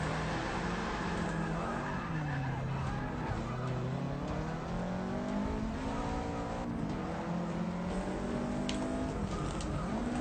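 Race car in Forza Motorsport 6 pulling a handbrake turn and accelerating hard, engine pitch sweeping down and climbing again over continuous loud drone with tire noise, no pauses.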